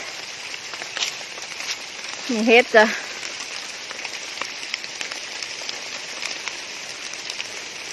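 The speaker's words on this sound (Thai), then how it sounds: "โอ้พี่น้องฝนตกจ้ะ" Steady rain falls through a forest during wild mushroom foraging, a continuous hiss with scattered drop ticks throughout, while a person speaks briefly in the middle.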